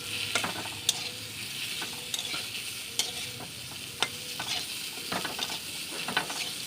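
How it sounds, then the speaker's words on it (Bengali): Potatoes fry in a pan with a steady sizzle, broken by repeated sharp scrapes and knocks of a spatula stirring them. "এইভাবে আলুটাকে ভেজে নিতে হবে কিছুক্ষণ"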